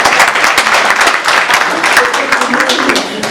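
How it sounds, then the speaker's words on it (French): At the 2016 Prix Mandela award ceremony, a hall audience applauds to welcome a speaker to the stage, with dense, loud, continuous clapping close by for several seconds. "sous vos applaudissements"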